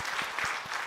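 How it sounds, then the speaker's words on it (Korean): Church congregation at a Sunday afternoon service applauding, a brief, fairly quiet patter of many hands clapping, with no speech over it. "네, 박수로 격려해 주십시오."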